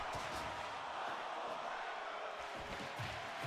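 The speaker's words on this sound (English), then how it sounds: "And that got the crowd talking." Crowd at a wrestling show reacting after a near fall, a broad, continuous murmur and cheer from many people, moderately distant with occasional thumps beneath.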